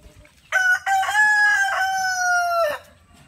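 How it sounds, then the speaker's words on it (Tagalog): An upgraded native rooster of about three kilos crows once at close range, a loud, drawn-out cock-a-doodle-doo of roughly two seconds standing out against a quiet farmyard. "Ito yung aking isa pang rooster na upgraded native po yan"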